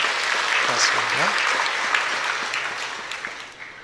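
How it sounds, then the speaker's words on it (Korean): A crowd at a church service claps steadily for a few seconds, the applause fairly close and sustained before tapering slightly at the end. "박수로 축하하겠습니다"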